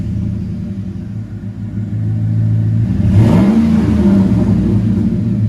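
A Chevy Silverado 5.3L V8 with a Flowmaster 40 series exhaust idles with a deep, loud rumble, then a single sharp rev rises and falls back into a throaty burble.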